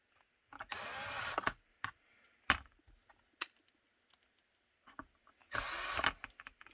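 Two sustained bursts of a power drill boring 1/8 inch pass-through holes in a handgun holster, each lasting about a second, separated by quiet stretches with scattered clicks and handling taps nearby.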